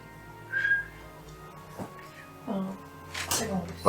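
A person attempts to whistle in short, thin tones, one brief clear note early and breathy fragments later, mixed with people talking nearby.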